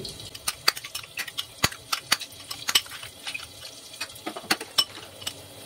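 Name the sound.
whisking yogurt in a bowl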